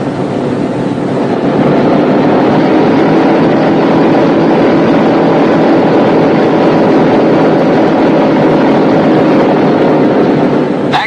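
Boeing B-17 Flying Fortress engines running up, a loud steady drone of heavy radial piston engines with a dense, even roar sustained throughout.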